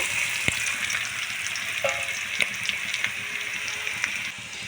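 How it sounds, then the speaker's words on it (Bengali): Garlic fries in hot oil in a pan with a close, continuous sizzle, bright crackles and occasional stirring scrapes, easing slightly toward the end. "রসুনটা আমি ভেজে নেব।"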